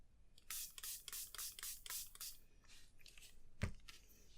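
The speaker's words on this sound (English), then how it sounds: "So I'm going to do is spray this bottom part now." A spray bottle mists ink over a stamped card in a run of quick, close spritzes, with a short pause and then a few more bursts, followed by a sharp knock.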